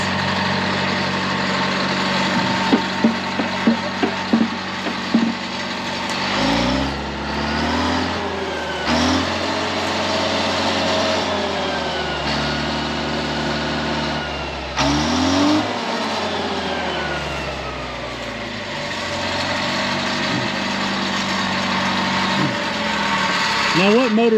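An old grader's turbocharged Detroit 4-71 diesel runs with a steady rumbling idle that rises and falls with several revs, loud and close, while people talk over it.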